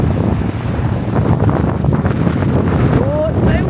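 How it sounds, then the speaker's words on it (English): Strong wind by the sea roars steadily and loudly across the microphone, with a rushing, buffeting texture and a faint high voice-like sound near the end. "Oh, it's so windy!"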